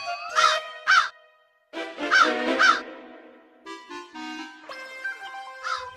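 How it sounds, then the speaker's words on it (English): Animated crow cawing in a royal court tale, several loud harsh caws in two paired bursts, then a softer tonal melodic passage with a final caw, close and clear with no talk. "See how this crow is cawing, Your Majesty."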